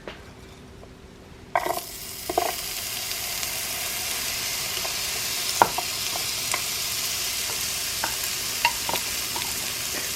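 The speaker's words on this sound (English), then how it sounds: "I'm going to put some butter on the bottom. And then I'm going to add some onions." Butter and onions sizzle steadily in a Dash omelette maker, a quiet start giving way to continuous frying hiss with scattered pops and light stirring clicks, close and fairly loud.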